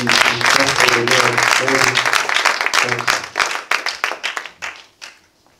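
A crowd claps loudly and rhythmically while singing voices carry over it, then the applause thins into scattered claps and fades out.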